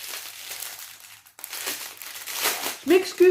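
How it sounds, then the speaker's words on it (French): Paper crinkles and rustles close by as a haul is unboxed, a run of crisp crumpling bursts with a short quiet gap, and someone speaks over the end. "Je m'excuse pour les petits bruits de papier."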